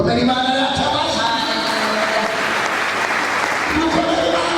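Applause from a church congregation during a worship service in Burundi, a dense, steady wash of many clapping hands filling the whole stretch, with voices faintly mixed in underneath.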